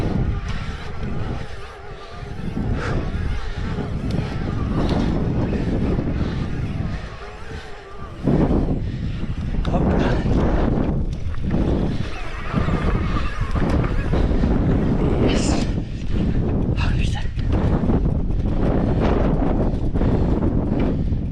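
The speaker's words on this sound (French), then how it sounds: "là il y a du vent" South wind on a mountain pass during an electric-assist mountain bike ride, gusting in heavy bursts against the microphone with roaring swells and brief lulls, while people talk now and then.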